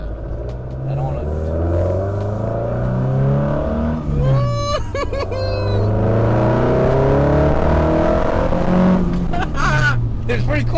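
An Alfa Romeo Giulia Twin Spark engine rumbles and rises in pitch as the car accelerates, heard from inside the cabin with a steady drone, while people talk over it.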